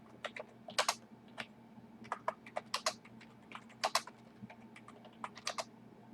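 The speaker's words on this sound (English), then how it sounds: "I might just type the question" Keys clatter on a computer keyboard in uneven bursts of quick taps with short pauses, close and fairly quiet over a low steady hum, with no talking.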